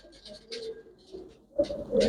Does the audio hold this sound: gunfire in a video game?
no